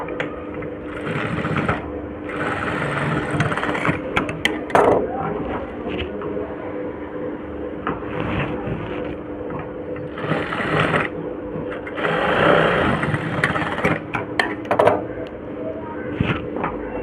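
A sewing machine stitches a blouse up close with a rapid mechanical whir. It runs in bursts with short pauses and clicks between them.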